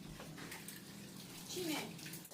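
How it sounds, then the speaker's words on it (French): Tap water runs in a steady, soft splashing stream, quiet and somewhat distant, while people talk faintly nearby. "qu'il regarde l'eau couler là-bas"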